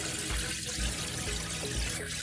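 Water pours steadily from a waterfall-style faucet into the sink of a Forest River NoBo 19 off-road trailer, a close, constant splashing rush with no speech.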